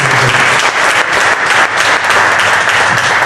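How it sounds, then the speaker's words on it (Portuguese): A church congregation applauds steadily and loudly, a dense unbroken wash of many hands clapping at a worship service for a men's ministry. "Quantos podem aplaudir o Senhor?"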